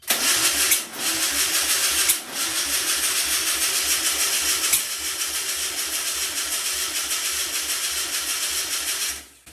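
A VW Beetle engine, not run in over 25 years, cranks steadily with a fast rhythmic chug as it tries to catch, loud and close, with short pauses and a final stop near the end.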